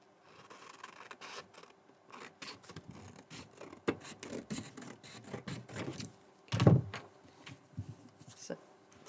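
Scissors cut through card for a shirt-shaped card, a series of quiet, close crisp snips and rustles with a louder crunch near the end.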